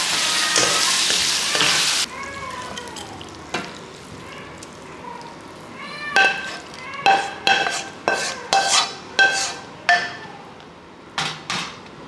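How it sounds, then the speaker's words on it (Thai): A loud burst of frying hiss, then rhythmic scraping and clanking as pork with basil is stir-fried in a pan, with sizzling underneath. "หลังจากนั้นก็ปิดท้ายด้วยใบโหระพาได้เลยครับ ผัดให้เข้ากัน เสียงแค่นี้ก็ได้"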